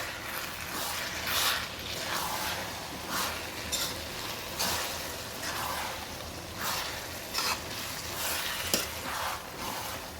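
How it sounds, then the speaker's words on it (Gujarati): An onion mixture seasoned with salt being stirred in a hot pan: a continuous sizzle with repeated scraping strokes of the spoon at an irregular pace, close and fairly loud, no talk. "આપણે આ બધા સરખું મિક્સ કરી લઈએ"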